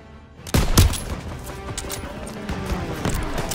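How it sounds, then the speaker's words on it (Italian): Suppressive gunfire in the World War II shooter Call of Duty WW2, a loud burst of rapid shots followed by continuing scattered rifle and machine-gun fire in a busy battle. "Fuoco di soppressione!"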